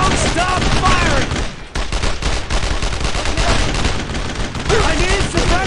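Sustained, dense gunfire from the World War II shooter game Brothers in Arms: Road to Hill 30, rapid bursts and fusillades rattling almost nonstop at close range, with shouted voices mixed under the shooting.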